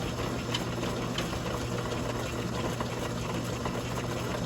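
An Atlas Craftsman lathe running on its belt and step drive, giving a steady, even mechanical hum and whir that holds at one level throughout, close and continuous with no talking.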